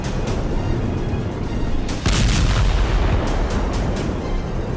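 Explosions and blasts during an attack on a Russian warship in the Black Sea, a continuous loud rumbling barrage with a heavier burst midway, no voices.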